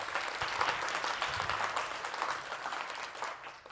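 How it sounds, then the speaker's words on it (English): Audience applauding a speaker at a professional business event, a continuous wash of many hands clapping at moderate volume, with no talking over it. "A big round of applause for Arti."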